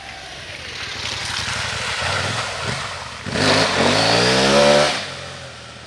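A 2020 KTM 790 Adventure R motorcycle engine revs hard while climbing a hill, a steady loud drone that surges sharply louder near the middle and holds before easing off at the end.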